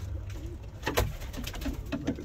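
Racing pigeons coo softly nearby, several low rounded calls repeating over a light background rustle, with no speech.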